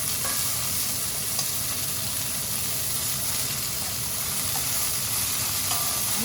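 Turned-over pieces, not coated in flour, fry steadily in a pan with a loud, even crackling sizzle that holds throughout, plus a few faint clicks and no talking.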